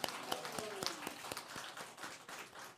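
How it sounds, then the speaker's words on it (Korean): Applause welcoming the new year at a church gathering: a dense crowd clapping with sharp, fast, irregular claps that stay lively across the whole stretch, with a few voices mixed in. "우리 큰 박수로 새해를 맞이합시다."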